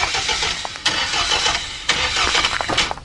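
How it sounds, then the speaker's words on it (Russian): A car starter cranks repeatedly, trying to start an engine that has a fault with its starter and fuel pump, with bursts of close, loud mechanical churning and no catch. "ну слышал, да, как стартер пытается завести"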